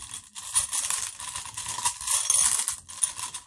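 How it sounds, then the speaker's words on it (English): Small letter tiles rattle and clatter as they are shaken inside a cup, a dense, continuous clicking with a few louder bursts, close and fairly quiet, with no voices. "I have this cup full of letters. I'm going to give it a little shuffle"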